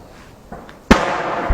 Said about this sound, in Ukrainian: Це зараз ворожий танк працює.